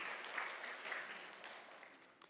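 Welcoming applause in a Korean Baptist church service as a returning deacon is greeted, a soft, fairly distant patter of many hands that gradually fades.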